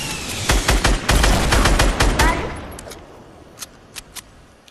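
Rapid gunfire crackles in a one-on-one video game match, a loud close burst of automatic shots for about two seconds that fades into a tail, followed by a few scattered single shots.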